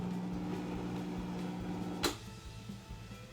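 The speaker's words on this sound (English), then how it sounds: "blender's going back on, making noise." A blender whirs steadily while blending chocolate hummus, a dense motor drone that cuts off abruptly partway through, leaving quieter kitchen sounds.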